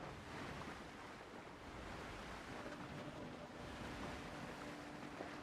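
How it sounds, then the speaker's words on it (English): Ocean waves wash steadily around a sailing ship running with the wind in the pirate survival game Windrose, a continuous broad surf rush with faint wind noise and no speech. "Ooh, some amazing waves."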